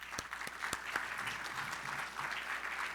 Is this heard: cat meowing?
no